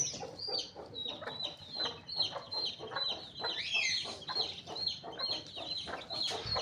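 Aseel chicks let loose outdoors keep up a busy stream of soft, high peeps and clucks, many short calls overlapping at moderate volume with no talking.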